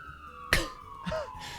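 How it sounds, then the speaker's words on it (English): An odd siren in a comedy sketch: a sharp burst, then a short swooping, warbling electronic tone that bends in pitch, fairly faint and alone. "that was a real weird siren"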